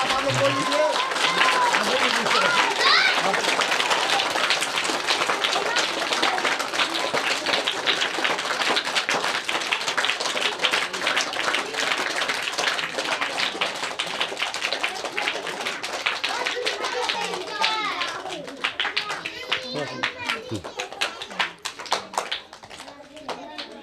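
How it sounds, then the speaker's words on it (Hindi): Children clapping hard and continuously at the ribbon-cutting inauguration of a constitution education centre, a loud, rapid patter of many small hands that grows sparser and more scattered near the end, with voices talking over it. "बच्चे लोग ताली एकदम नहीं रोकें, ताली आप इतना बजाइए कि ये आवाज़ ताली तक पहुंच जाए।"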